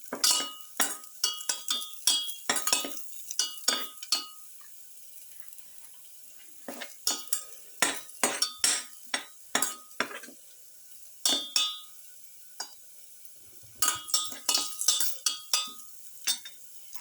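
A spoon stirs salt through a rice pilaf mixture in a pot, with bursts of scraping and clinking strokes separated by short quiet pauses and a faint sizzle underneath.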